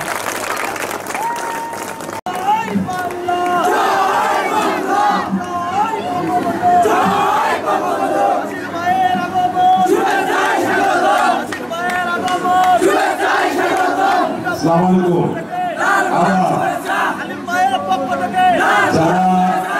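A village crowd claps and cheers loudly at the outdoor inauguration of an electricity line, roaring voices and applause swelling together and carrying on for nearly twenty seconds, with shouts mixed in.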